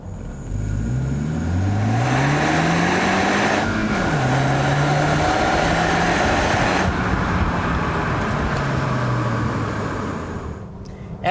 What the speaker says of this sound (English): I'll let you guys hear what it sounds like from the outside of the car back into sport mode really quick.